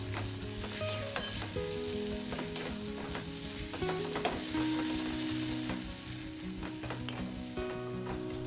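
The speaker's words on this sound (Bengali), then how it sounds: "এবারে আমি সিদ্ধ করে রাখা শ্রেডেড চিকেনগুলোকে দিয়ে খুব ভালোভাবে কিন্তু অনেকক্ষণ ধরে কষাতে থাকবো।" Boiled shredded chicken stir-fried in a little oil and spice paste, sizzling steadily with rhythmic scraping and stirring clatter of the spatula in the pan, close and continuous.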